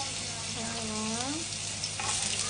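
Garlic frying in cooking oil in a pan gives a faint, continuous sizzle, while a voice speaks briefly over it in the middle.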